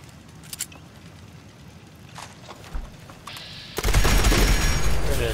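A defensive turret in Fallout 76 opens fire during single-player play: after quiet ambience and a few faint clicks, a loud, dense burst of rapid automatic gunfire erupts near the end and keeps going.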